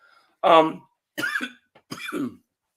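Three harsh coughs close to the microphone, each a short separate burst with brief silences between them.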